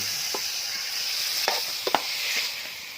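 Spicy eel stir-fried in oil in a pan, a steady loud sizzle throughout with a few sharp scraping stirs of the utensil near the middle and end.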